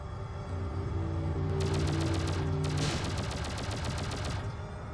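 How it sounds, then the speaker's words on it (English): Gunfire in the video game Shockwave Assault: two long bursts of rapid, evenly spaced shots over a steady engine-like drone, loud and close. "Good shooting, Tex."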